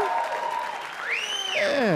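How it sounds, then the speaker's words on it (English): Comedy club audience applauding, a brief dense burst of clapping and crowd noise while a comedian speaks over it with a rising vocal exclamation. "clap for Tim Meadows, everybody"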